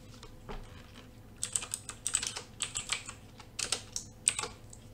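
Keys clattering on a computer keyboard while entering commands in Cisco Packet Tracer, quick irregular bursts of close, crisp clicks, fairly quiet with pauses between runs.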